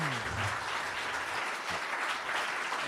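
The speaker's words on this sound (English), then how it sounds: "giving a round of applause." A conference audience breaks into a full round of applause at the close of a debate convention, dense steady clapping throughout with no speech over it.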